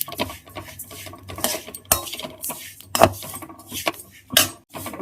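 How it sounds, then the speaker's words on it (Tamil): Cumin seeds being lightly dry-roasted in a pan, stirred with a metal utensil that scrapes and clinks against the pan in irregular close strikes, with soft rustling in between and no talk. "இப்போ ஜீரகத்தை லேசாக வறுக்க போகிறேன்"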